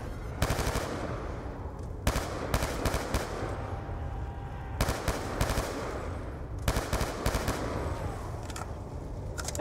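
Rapid automatic gunfire in a round-based zombie-style video game, with repeated loud bursts of machine-gun shots over a continuous background of game noise, no talking.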